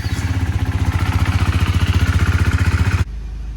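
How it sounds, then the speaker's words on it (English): A tire inflator pumps air into the low tires of a Husqvarna Vitpilen motorcycle, a loud, steady mechanical chugging with rapid even pulses for about three seconds before it cuts off, leaving a low hum. "I am just inflating the tires on the Vitpilen."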